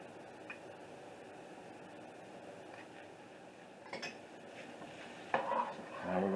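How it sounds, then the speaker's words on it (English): Soft scraping and clinking of a spoon stirring peanut butter into hot chocolate oatmeal no-bake cookie mixture in a pot, faint and irregular, growing louder near the end. "Now we're going to stir in our peanut butter."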